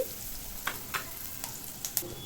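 Cinnamon stick, a few peppercorns and cumin seeds fry in hot oil with a close, continuous sizzle, punctuated by several sharp crackles and pops spaced irregularly across the short stretch.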